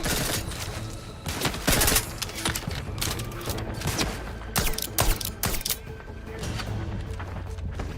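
Rapid bursts of gunfire in the video game The Outer Worlds, dense automatic volleys and single shots fired in stretches, loud and close, with a voice speaking briefly in between.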